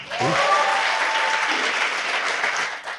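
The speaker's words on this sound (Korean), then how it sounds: "박수" Audience at a Korean political talk applauding a Democratic Party candidate, a sustained, even burst of many hands clapping with a faint voice at the start.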